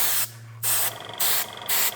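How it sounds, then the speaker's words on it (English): Three short, light bursts of spray paint hiss in turn with brief pauses between them as a model train coach is weathered, close and soft. "very, very, very light spray"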